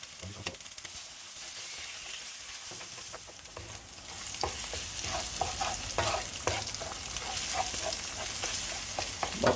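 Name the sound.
egg frying and being stirred for pineapple Thai fried rice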